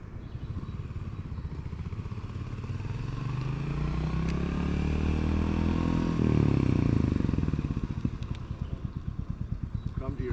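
A motorcycle on a rider training course rolls on the throttle, its engine note rising steadily and peaking near the middle before easing back into a rapid putter, heard from a moderate distance.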